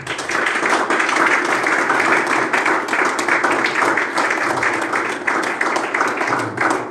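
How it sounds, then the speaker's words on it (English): A church congregation gives a sustained clap offering, dense continuous applause filling the room at a steady loudness throughout, with faint voices beneath. "Celebrate God again with a clap offering."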